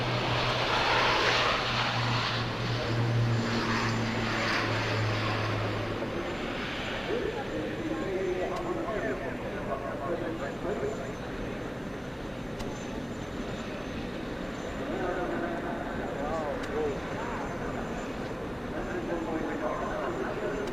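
Airbus A400M military transport aircraft performing a flying display at the Farnborough Air Show, its loud turboprop engine roar continuous throughout, with a commentator talking over it.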